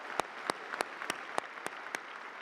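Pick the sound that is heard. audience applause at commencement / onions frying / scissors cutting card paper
audience applause at commencement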